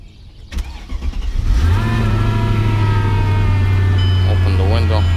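A 2003 Mercedes E55 AMG engine cranks and fires up after a brief pause, then settles into a loud, steady idle close by, with a faint whine rising near the end.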